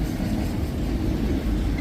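A CSX freight train hauling auto racks, apparently empty, rolls past close by on a windy day, its steady heavy rumble and wheel clatter filling the whole stretch.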